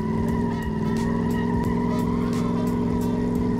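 A powerful car engine in the Car Mechanic Simulator 2015 video game roars steadily at high revs, loud and continuous, with a whining, turbo-like tone and no talk over it.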